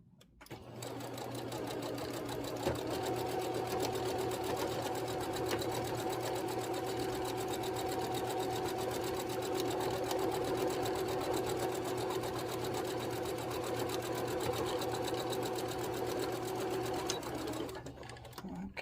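A sewing machine stitches across a vintage quilt, its rapid steady whir running loud and close for nearly the whole stretch before stopping at the end.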